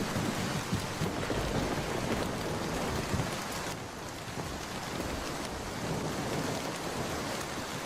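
Steady, dense rain pours down in a cartoon village scene, with a continuous hiss of drops on surfaces and a low rumble underneath, loud and unbroken throughout.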